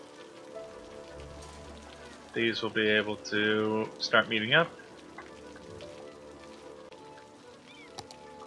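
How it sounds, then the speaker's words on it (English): Steady rain patters and hisses throughout in the game Cities: Skylines, with a person speaking briefly over it partway through. "Really wish it wasn't raining all the goddamn time"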